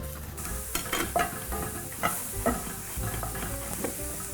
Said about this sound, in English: mushrooms have fried down